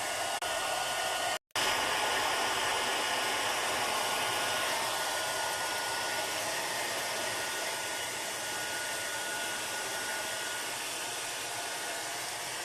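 Hair dryer blowing continuously at full power, a loud, steady airy roar that cuts out for an instant near the start and then runs on without a break.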